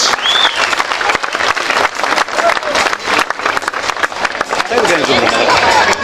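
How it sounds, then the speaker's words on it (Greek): Spectators at a Rally Acropolis 2009 ceremony in Loutraki applaud loudly and continuously, a dense wash of clapping with crowd murmur and occasional whistles mixed in. "Χειροκροτήστε τους, κάναν καταπληκτικό αγώνα"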